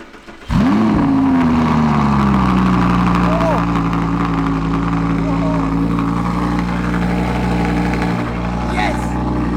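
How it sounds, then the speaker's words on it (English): An Audi R8 V10 Plus fitted with a new exhaust fires up with a sharp, loud bark, then settles into a steady, deep idle that holds close to the listener with no talking. "We're going to start the car, hear the car with the new exhaust for the first time"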